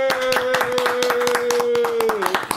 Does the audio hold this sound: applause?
yes